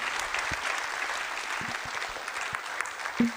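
An audience applauds the invited guests at the close of a round-table discussion on science, with steady, dense clapping from a crowd throughout and no talking.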